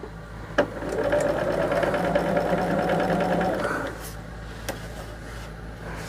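Sewing machine stitching a sampler quilt block, a steady close hum running for about three seconds before stopping, with a few clicks and handling sounds around it.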